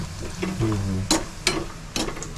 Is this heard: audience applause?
no